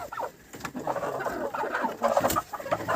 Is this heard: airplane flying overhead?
no